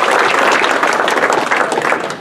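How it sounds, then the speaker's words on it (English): Loud, close applause from a speedway banquet crowd, dense continuous clapping that stays strong before tapering slightly at the end, no talk over it. "this lady deserves a second round of applause because she's been great"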